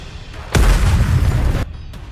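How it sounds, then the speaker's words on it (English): Missile blasts in the NIKKE x Stellar Blade game land as a heavy, booming explosion that swells suddenly and rumbles for about a second over a steady background din, with no voices. "The missiles have no homing ability. It's just firing wildly."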